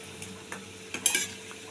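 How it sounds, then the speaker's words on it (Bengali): Jackfruit koftas fry quietly in oil in a pan, with soft sizzling under a few gentle stirring scrapes and light clinks of a spoon. "তাহলে এখন আমি কোপ্তাগুলোকে পুরো ভেজে"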